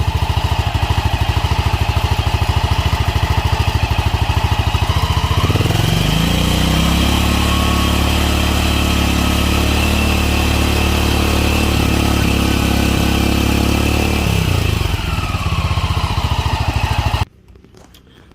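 A small 200cc Vitacci Kandi Batman go-kart engine idles loudly and close, revs up and holds a high pitch for several seconds, drops back to idle, then cuts off.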